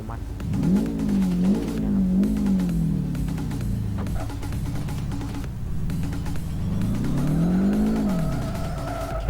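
A car engine from the racing game Live for Speed revs and whines up and down in pitch, steady and close, with rising and falling surges.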